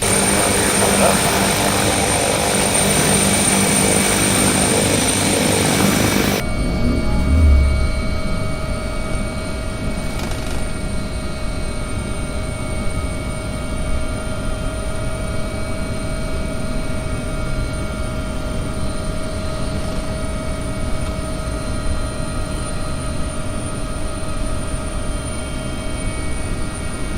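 A helicopter in the X-Plane 11.34 flight simulator gives a steady engine and rotor drone with a thin tonal whine. It is fuller and louder for the first six seconds, then settles into a constant, even hum.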